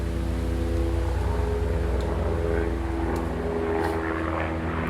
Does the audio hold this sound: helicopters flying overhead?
yes